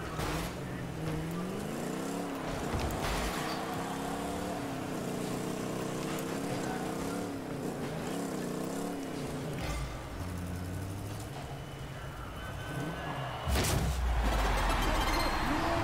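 In a Rocket League match, a car engine hums continuously with a rising and falling pitch as the car drives and boosts, and a sharp, loud burst of impact noise comes near the end.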